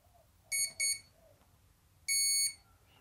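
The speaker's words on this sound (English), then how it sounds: "That's a long beep and four short beeps." Programming beeps from a Razor ESC for an FCB VC400 RC model: two short tonal beeps close together, then a longer beep after a pause, clear and alone over faint background hiss.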